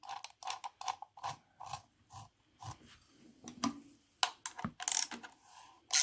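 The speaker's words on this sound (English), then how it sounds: "Ratchet it up." Repeated short ratchet clicks in uneven bursts, close and fairly quiet, as a clamp is tightened during restoration of Suzuki GT750 instrument clocks, with small mechanical knocks between strokes.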